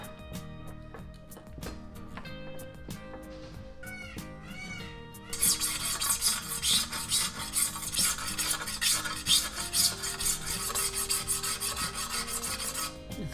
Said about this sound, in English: the first thing I'm going to do is to scrape off some paint